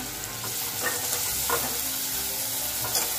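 Finely chopped onion sautéing in hot oil for a potato sandwich filling, a steady close sizzle with occasional stirring scrapes throughout.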